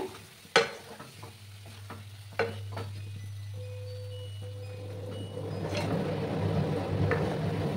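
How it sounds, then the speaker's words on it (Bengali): Rui fish curry with salt sautés in a pan, a few sharp utensil knocks at first, then a sizzle that swells louder toward the end, alongside a steady low hum. "খুব ভালো করে কষিয়ে নিতে হবে।"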